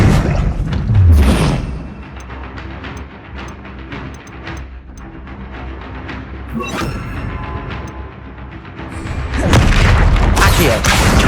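Confringo blasts from a Hogwarts Legacy battle with a troll: loud booming impacts open and close the stretch, with quieter crashing and thudding combat in between and no clear talk.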